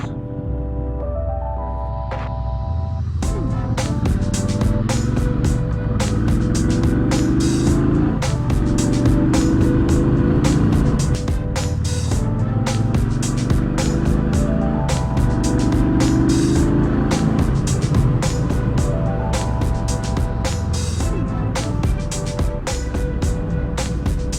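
2019 Triumph Speedmaster motorcycle ridden along country roads, its engine rising and falling through gear changes, loud and near, with heavy wind buffeting and no talk.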